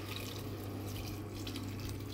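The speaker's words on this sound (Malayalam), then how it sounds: "ഇനി നമുക്ക് നമ്മൾ ചൂടാക്കിയ വെള്ളം അത് ഒഴിച്ചു കൊടുക്കാം." Heated water poured from a container onto basmati rice in a pan, a steady close rushing splash that holds at an even level for a couple of seconds.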